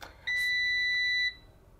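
A single sustained electronic beep from a Blusmart air fryer signalling it is done, clear and fairly loud, lasting about a second before cutting off, with quiet room background around it.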